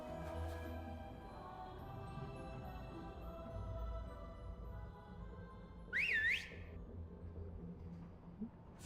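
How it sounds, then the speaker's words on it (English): A short rising-and-falling whistle rings out in Genshin Impact, a single bright two-note call about two-thirds through, heard alone over a low steady game ambience. "they totally did not fucking hear you whistle"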